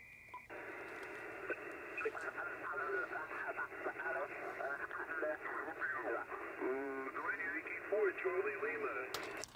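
An ICOM amateur radio receiver tunes across the ham bands, giving a burst of tuning noise followed by a steady stream of distorted, narrowband voices. The chatter is moderately loud and fairly close.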